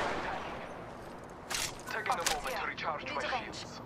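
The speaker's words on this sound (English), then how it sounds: "I just got shot at with a bow check" In Apex Legends, a player comes under bow fire: a cluster of sharp, crackling shot impacts bursts out midway over a rough, noisy game background.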